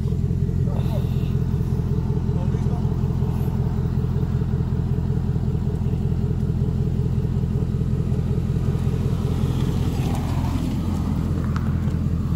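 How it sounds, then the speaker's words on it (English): A car approaching on a road, a steady low engine rumble that builds toward the end as it nears, heard in the open with some wind noise. "Hold up, it's a car coming."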